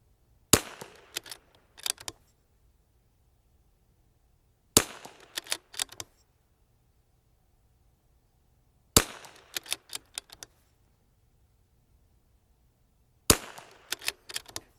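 Rifle fired at a target: four separate bursts, each a sharp loud report followed by a few quicker cracks and rattles, with near-silent gaps between them.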